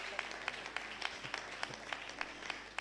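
Church congregation at a thanksgiving service clapping in a steady rhythmic beat, many hands together at moderate distance, with a faint murmur of voices underneath.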